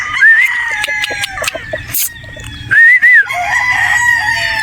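A straight-comb gamefowl stag crows loudly and close, two drawn-out calls with clucking and rustling between them, and other roosters crowing in the background.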